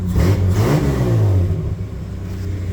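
A Ford XF Falcon with worn piston rings on cylinder six revs close up, one strong rise and fall of engine pitch, then settling into a steadier, quieter idle rumble with no voices.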